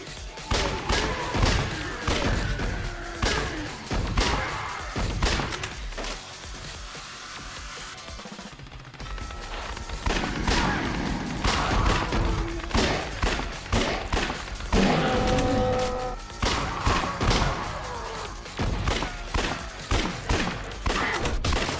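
Rapid bursts of gunfire from controller aiming in a first-person shooter video game, loud and near, with dense repeated shots over several seconds and a short lull midway.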